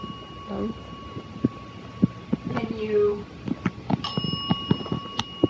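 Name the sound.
bell ringing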